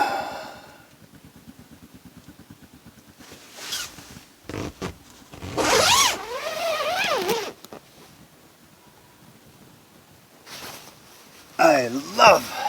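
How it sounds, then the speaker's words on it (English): A tent door zipper being unzipped from the top inside a hot tent, several quick rasping pulls of varying length, close and fairly loud, with a person speaking before and between the zips. "I unzip from the top, climb out."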